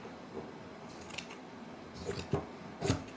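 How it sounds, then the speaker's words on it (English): Scissors slicing through sweatshirt fabric, a few short close snips ending in two sharper crunching cuts, alone and quiet. "I'm just going to make a little slit here in the corner, and then I'm going to cut"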